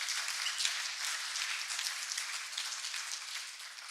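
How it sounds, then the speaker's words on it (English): Audience at a DevOpsDays Eindhoven talk applauding the speaker, Alex: steady, fairly quiet clapping from a crowd sustained across the whole stretch with no voices over it. "please do give a round of applause to Alex"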